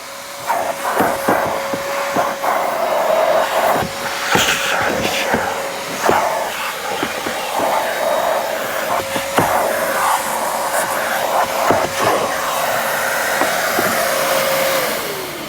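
A steady, whining vacuum cleaner runs continuously inside a car, with repeated bumps and scraping clicks as the nozzle moves around seats and carpet.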